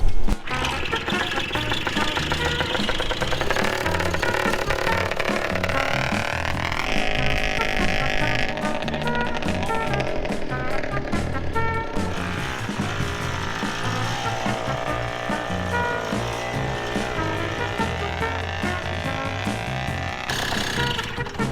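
A Rokon motorcycle engine crawls uphill in low gear, loud and close, with a rough, steady chugging drone that shifts in pitch and load throughout and never drops out.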